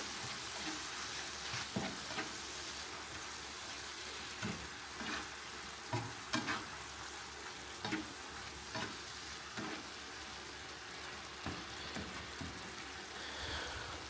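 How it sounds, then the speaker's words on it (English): A spoon scrapes and stirs Asian pork noodle sauce with sugar in a pan over low heat, giving soft irregular scrapes and clinks over a gentle background sizzle, close and fairly quiet, with no talking. "Scrape off the sugar at the bottom. That can go in too. Just sweetens it up a slightly bit. And then stir that last bit in."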